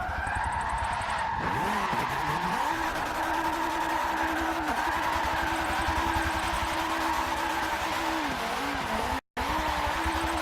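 Continuous tire skid from a race car drifting in Forza Motorsport 7, a steady loud squeal over droning engine with wavering pitch as the slide angle changes, briefly cutting out near the end.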